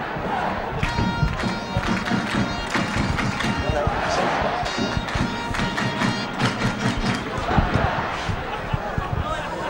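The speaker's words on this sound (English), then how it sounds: "Well, it's a lively crowd. It's a decent crowd today." The crowd at a Bradford Bulls versus Warrington rugby league match in 2007 makes a dense, steady roar with scattered shouts and chants, heard under continuous commentary.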